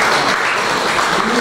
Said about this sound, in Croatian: Molim jedan veliki aplauz za njih.